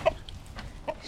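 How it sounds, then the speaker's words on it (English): A sick hen clucking in a backyard flock, giving a few soft, irregular clucks and low murmurs that sound close. "This chicken is out because she is sick."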